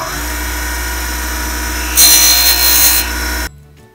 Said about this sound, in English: We're going to sand the tip of this off so that we can get airflow through it now.